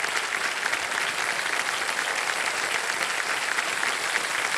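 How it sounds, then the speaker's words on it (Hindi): Studio audience applause for a contestant who has just won 25 lakh rupees on the quiz show Kaun Banega Crorepati, a dense, steady wash of clapping that holds at an even level for several seconds with no voices over it. "ये 25 तालियां बज जाए इनके लिए"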